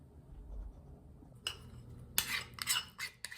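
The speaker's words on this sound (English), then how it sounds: "You mix everything up." Pancake batter with vanilla protein powder and stevia being mixed in a bowl, utensil clinking and scraping against the bowl in quick irregular bursts after a quiet start, close up.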